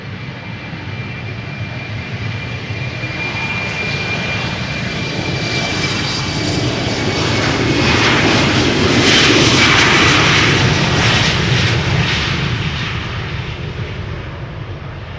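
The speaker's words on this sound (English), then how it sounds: "Meanwhile, over here, KLM, Embraer 190 to Glasgow" KLM Embraer 190 jet departing Amsterdam Schiphol for Glasgow, its engines building from a loud roar with a thin whine to a peak about two-thirds through, then easing slightly.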